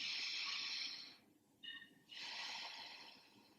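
A slow, deep breath drawn in close to the microphone: a long airy hiss, a brief quiet gap with a faint tone, then a second sustained inhalation.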